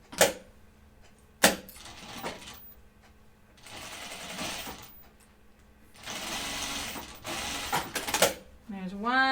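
A sewing machine single-needle stitches a seam on a pair of pants, running in several bursts of steady mechanical whirring separated by short pauses and sharp clicks, close by and fairly loud.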